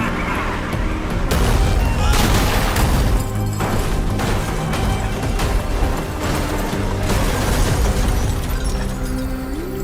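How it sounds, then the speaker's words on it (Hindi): A gunshot from an action movie, a single loud boom standing out amid a dense, busy soundtrack of crashes, engine rumble and music, with voices briefly audible. "एक ही तो गोली चली है"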